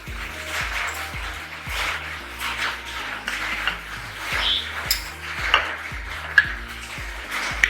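Clinks and scrapes of a spoon against a bowl as a mixed beef ball mixture is moved into another bowl, steady close clatter with light rubbing.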